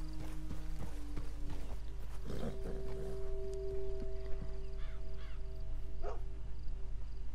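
Horse hooves of a wild American Paint horse clip-clop at a steady walking pace in New Austin in Red Dead Redemption 2 amid game ambience and tonal hums, with a faint whinny-like call partway through.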